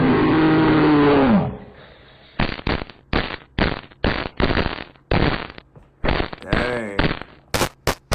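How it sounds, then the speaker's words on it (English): Police body-cam gunfire: a rapid volley of about a dozen sharp, loud shots in uneven bursts, following a shouted command, with a brief exclamation among them. "That's a lot of shots"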